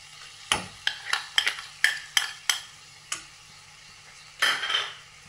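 A spoon clatters against a pan as yogurt is stirred into sizzling chilli masala, with a string of sharp metallic scrapes and taps over a soft frying hiss, then a final cluster of stirring.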